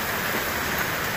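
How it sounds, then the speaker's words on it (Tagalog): Heavy typhoon rain pours down in a dense, unbroken hiss, loud and close, with no gaps and no voices over the short stretch. "Lakas na ng ulan."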